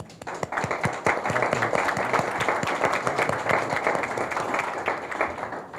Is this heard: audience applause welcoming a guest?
yes